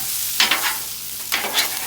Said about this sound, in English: He's scraping the griddle, picking it up from the bottom, moving the bottom to the top, and then just jostling it all around.